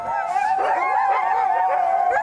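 Sled dogs at a rest stop during a Beargrease sled dog race in northern Minnesota howl and yip together in a sustained, overlapping chorus, loud and close.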